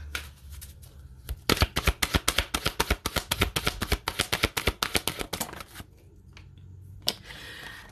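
A deck of Wisdom of the Oracle cards being shuffled in a long run of crisp, rapid riffling snaps that lasts several seconds, then slows to a few soft shuffles at the end, close and alone.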